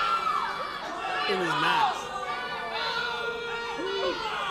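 A crowd at a live wrestling event shouts and jeers as performers taunt them, a rowdy mix of near and far voices swelling and fading, with a commentator's voice briefly audible.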